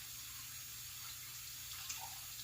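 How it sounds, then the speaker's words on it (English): Juice pours through a strainer into a glass in a steady, close liquid stream, an even splashing trickle for a couple of seconds with a slight gurgle near the end, no voices. "But I'll pour my juice right into my glass."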